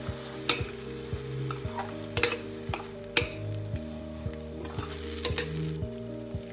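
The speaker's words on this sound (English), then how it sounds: "Make sure we fry this masala on very low flame." Masala with one big chopped tomato fries in a pan over very low flame, giving a steady close sizzle with repeated scraping strokes of a stirring spoon, no voices.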